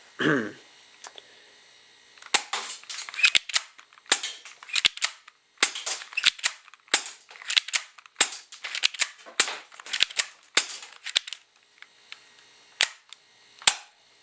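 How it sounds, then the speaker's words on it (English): Repeated sharp snapping shots from a modified HFC spring airsoft Glock 17 pistol, fired one at a time in quick irregular bursts, close and loud, with no talking. "So I'll go ahead and fire it for you. And I'll just shoot at something real quick."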